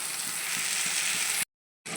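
Food sizzles steadily in a hot pan, a close crackling hiss that cuts off abruptly near the end.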